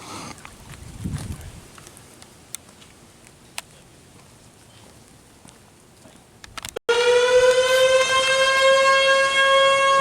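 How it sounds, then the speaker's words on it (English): Ferndale's civil defense siren, sounded to call volunteer firemen, bursts in loud and steady after a quiet stretch of faint outdoor noise, its rising harmonic wail sustained to the end. "If you're visiting and you hear this siren, it scares tourists a little bit."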